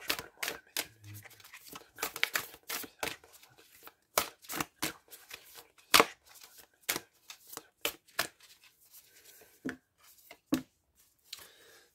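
Tarot cards are shuffled by hand in brisk, irregular riffles and taps, close and crisp, with short pauses between bursts.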